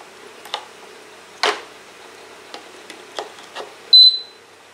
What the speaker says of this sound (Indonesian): Oke, sudah menunjukkan suara bip. Berarti otomatis alat ini bisa berfungsi.